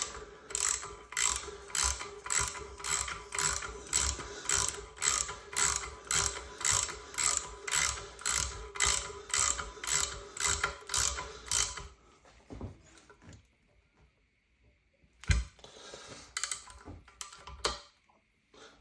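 A ratchet wrench tightening the pressure relief valve screw on a 300TDI oil pump and front housing, clicking in a steady, rapid series of close, loud strokes before stopping, followed by a few scattered clunks.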